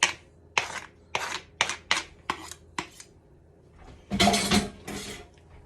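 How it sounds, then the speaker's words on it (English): A spoon scrapes and clinks in a pan of sauce with cilantro and Cajun seasoning, giving a string of short, sharp strokes in quick uneven rhythm, then a longer rougher scrape, close and clear with no talk. "Then we're just going to continue to stir this around until this is reduced."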